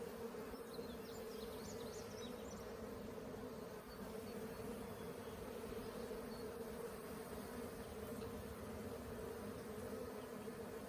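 A honey bee swarm drawing out comb on a hive hums in a dense, steady buzz from many bees, continuous and close throughout with no voices.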